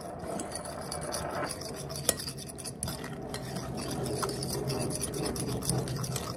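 Beaten egg, minced onion and spices being stirred together in a bowl, a steady close scraping and clinking of a utensil against the bowl with a couple of sharper knocks, no talking.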